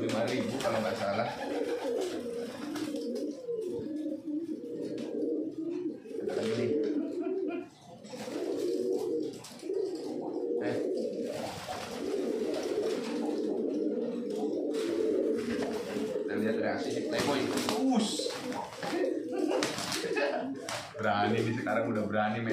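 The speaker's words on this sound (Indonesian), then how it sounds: "oh merpati dari pasar" Market pigeons coo in low, throaty bursts throughout, mixed with wing flaps and slapping sounds, while people talk nearby.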